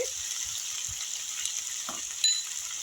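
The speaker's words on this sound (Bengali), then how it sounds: "এইবার দিয়ে দেবো আমি কেটে ধুয়ে রাখা গাজর গাজর কুচি বাঁধাকপি কুচি আদা কুচি" Chopped carrot, cabbage and ginger fry in a pan, making a steady hiss of sizzling with a few faint stirring knocks and one small clink, fairly quiet and close, no speech.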